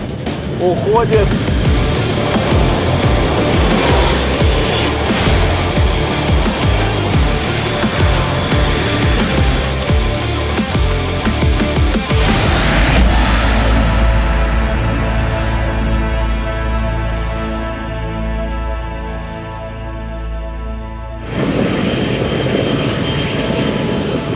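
A tracked Renault Duster races a T-80 tank at full throttle, a loud, heavy engine roar that rises steadily, then shifts about halfway into a lower, rumbling drone with a brief dip before surging back.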